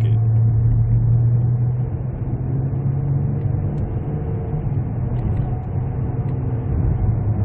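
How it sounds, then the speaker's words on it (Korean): A Kia K7 with a 3.0 engine accelerating, heard from inside as a steady, loud, low engine drone with a deep hum and road rumble that persists without pause and with no talking. "자, 가속되는 거 한번 좀 볼게요."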